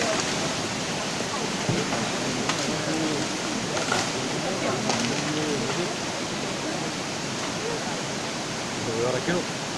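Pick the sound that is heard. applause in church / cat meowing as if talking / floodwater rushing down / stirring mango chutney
floodwater rushing down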